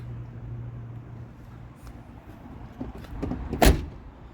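A 1985 Chevrolet C10 Silverado pickup truck door swings shut with one solid, close thud near the end, preceded by low interior rustling and faint handling noises.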